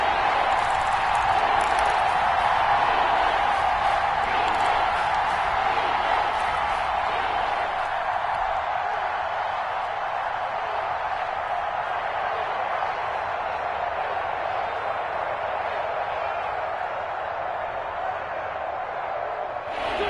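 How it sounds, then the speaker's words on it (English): Stadium crowd noise in a football video game, a steady broad roar of cheering that swells slightly early on and holds constant throughout, with no talk over it. "The crowd getting into it as we come up on a big third down."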